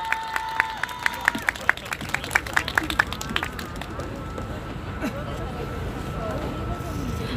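A crowd at an outdoor Wednesday rally claps to welcome two student speakers, with sharp separate claps early amid chatter and background noise, then a steady murmur of voices and street sounds as the applause fades.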